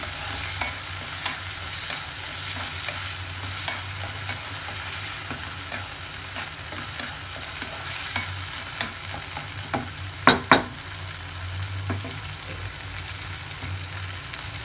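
Vegetables with a pinch of salt are stirred in a frying pan, a spatula scraping in steady repeated strokes over continuous close sizzling, with a couple of sharper knocks against the pan.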